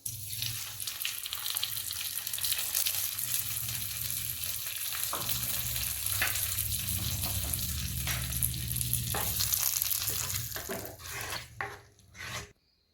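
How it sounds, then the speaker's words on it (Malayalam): Dried red chillies and curry leaves sizzle in hot oil as a tempering for beetroot pachadi, a steady loud frying hiss with scattered stirring clinks, fading out sharply near the end. "ഇനി നമുക്കിത് പച്ചടിയിലേക്ക് ചേർത്ത് കൊടുത്ത് താളിക്കാം"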